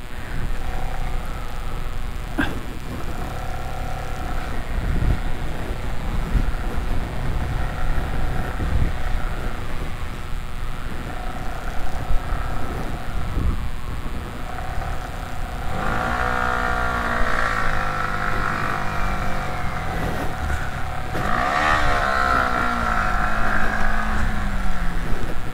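Car engine revving as a stuck vehicle is pulled from desert sand in Ladakh's Shyok area, a steady low drone rising into rising and falling revs in the latter half, fairly close.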